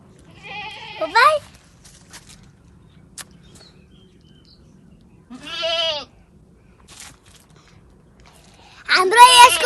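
A goat bleats three times in quavering calls, close and fairly loud, with quiet gaps between and faint background noise.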